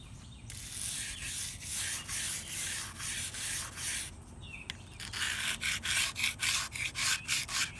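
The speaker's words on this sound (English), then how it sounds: "I need to scratch up his surface and get rid of all this loose, flaky stuff." Loose, flaky paint is scraped off the peeling surface of a garden ornament in a close, dry, rasping rub. The strokes repeat in a steady rhythm and there is no talk.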